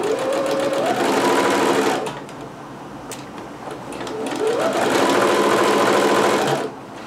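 Sewing machine stitching dress fabric from a McCall's M6701 pattern: two steady bursts of fast, whirring needle motion, each ramping up in speed, separated by a brief pause, loud and close.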